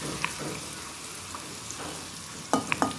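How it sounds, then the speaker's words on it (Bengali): Soft, steady sizzling of elephant foot yam pieces frying in oil, with a few light scraping clinks of a spoon stirring near the end. "সমস্ত ওলটা এইভাবে আমি নাড়াচাড়া করে হালকা লাল করে ভেজে নেব"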